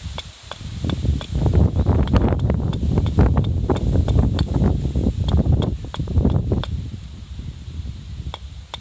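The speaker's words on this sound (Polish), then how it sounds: "wiatr potężny wieje" Strong wind roars and buffets steadily, with rustling and sharp gusty crackles throughout, and no voices.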